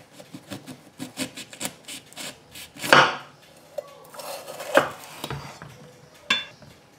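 Knife cutting a cleaned bell pepper in half on a kitchen board: a run of light taps and scraping rubs, then a couple of louder crunchy slices, close up and with no voices.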